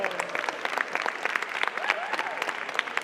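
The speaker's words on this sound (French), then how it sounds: "On peut s'applaudir quand même, on est entre nous" Applause from a small crowd at a project pitch event, dense steady clapping throughout with a few voices and cheers mixed in.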